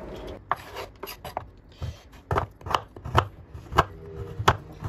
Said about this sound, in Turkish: Kuvertüer çikolataları bir bıçak yardımıyla ince olacak şekilde doğruyorum.